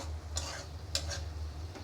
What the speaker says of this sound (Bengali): তো টমেটো দিয়ে দিলাম